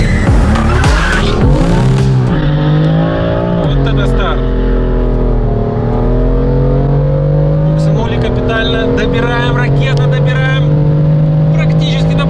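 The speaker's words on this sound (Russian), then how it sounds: "Стартанули с буксом, машину во все стороны водила" A BMW m340i launching in a drag race with wheelspin, tires squealing loudly alongside a revving engine whose pitch climbs through gear changes over a sustained run, with people talking over it.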